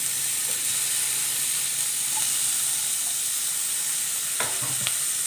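Chopped onion and tomato frying in a pan, a steady close sizzle and hiss with a few light stirring clinks near the end.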